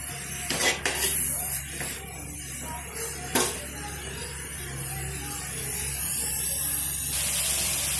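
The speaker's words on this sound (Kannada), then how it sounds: "ಇದು ತುಪ್ಪದಲ್ಲಿ ಫ್ರೈ ಆಗಿದೆ" Grated carrots frying in ghee for carrot halwa in a pan, giving a steady soft hiss broken by a few sharp clinks of a spoon against the pan.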